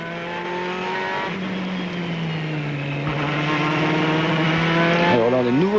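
Ferrari race car at the 24 Hours of Spa endurance race, its engine a steady loud whine that shifts pitch through gear changes, heard from onboard and continuous throughout, with a commentator's voice partly over it.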